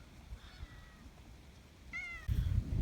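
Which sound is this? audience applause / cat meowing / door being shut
cat meowing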